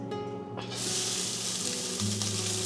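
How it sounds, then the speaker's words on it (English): Rice stir-fried in hot coconut oil, a loud, steady broadband sizzle that swells as the grains hit the pan, with a low hum and occasional scraping stirs underneath. "I'm just stir frying the rice a bit so it doesn't get too soggy"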